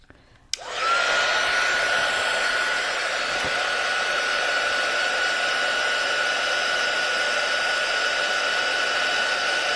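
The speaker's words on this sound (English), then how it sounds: "Okay, we're gonna try the heat gun." A heat gun blows hot air to dry a craft project, a nature journal page. It switches on after half a second and then holds a loud, steady whooshing roar with a high whine until the end.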